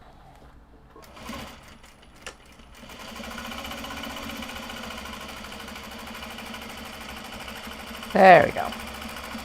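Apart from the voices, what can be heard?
sewing machine stitching a fabric sling seam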